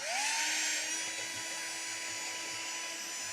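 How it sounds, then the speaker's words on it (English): A power drill spins up with a rising whine and settles into a steady high-pitched run while boring a hole into a wall stud, close and fairly loud, with no speech. "This time let's drill it."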